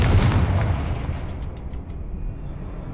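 A Confringo blasting curse explodes in Hogwarts Legacy, a single loud boom that starts heavy and rumbling, then fades into a long thinning tail.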